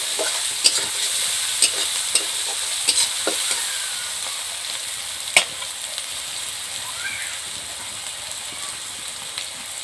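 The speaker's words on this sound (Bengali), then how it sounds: "পেঁয়াজটা ভালোভাবে ভেজে নেব।" Onions fry in a pan for a Bengali-style fish curry, with a soft steady sizzle and a cluster of sharp stirring clicks and knocks early on that thin out later. Close and fairly quiet, with no speech.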